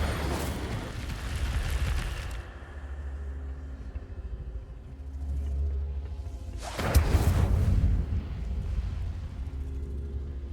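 The Incendio fire spell in Hogwarts Legacy, cast on the Hogwarts grounds, bursts out as a roaring, whooshing blast of flame with a deep rumble, followed by a second loud flare after a quieter stretch.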